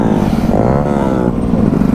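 Motorcycle circling while leaning hard to one side, its engine loud and close with a rough, throbbing note that rises and falls slightly as it rolls around.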